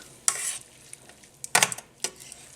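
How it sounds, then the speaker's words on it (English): Shrimp scampi with green onion is stirred in a pan: a few short scraping, sizzling strokes, close and distinct, with quiet pauses between them. "Get these shrimpies mixed in there"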